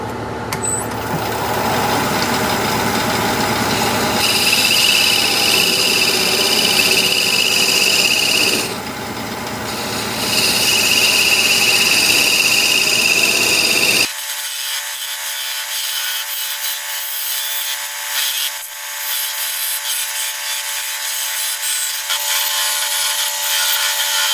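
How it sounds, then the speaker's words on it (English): Parting tool cutting into a spinning turned wooden lid on a wood lathe, a steady scraping, rubbing whine near and loud, then an abrupt shift to a thinner hiss as the cut finishes. "I'm just going to use my little parting tool here"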